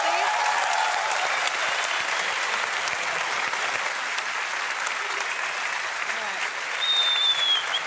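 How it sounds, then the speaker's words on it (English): A large crowd at The International 2018 Dota 2 finals applauds continuously, a dense steady clatter of clapping with occasional cheers, with a brief whistle near the end. "Can we get a round of applause for your TI8 winners,"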